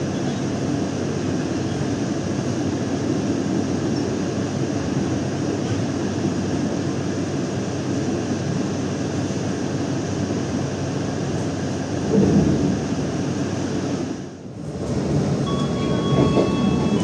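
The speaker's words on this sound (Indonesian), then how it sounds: "Kereta api Gaya Baru Malam Selatan melintas langsung ke stasiun Solo Balapan." Gaya Baru Malam Selatan passenger train running through Solo Balapan station, a steady loud rumble of wheels and carriage noise throughout, with a short dip in level near the end and no voices.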